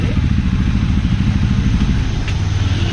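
A motorcycle engine runs with a loud, rough, steady rumble close by, idling and sputtering continuously.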